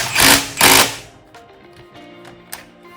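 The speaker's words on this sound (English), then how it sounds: "Just gotta tighten this bolt right here." Metal ratcheting and tool clicks while a bolt on a turbo up pipe is tightened during engine work on a Blobeye, two loud bursts at first, then quieter scattered ticks and a sharp tap near the end.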